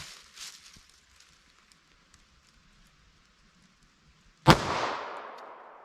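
One sharp, loud crack from a compact 9mm handgun firing Remington Golden Saber ammunition over a chronograph, followed by a fading reverberant tail after mostly quiet faint background sounds.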